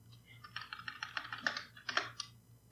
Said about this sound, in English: My typing speed is horrible